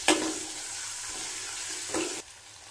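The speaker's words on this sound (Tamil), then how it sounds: "நல்லா வதக்கிக்கலாம்." Small shallots and spices sauté in hot oil for paneer masala, giving a steady close sizzle. A couple of brief stirring scrapes sound before the sizzle drops off at the end.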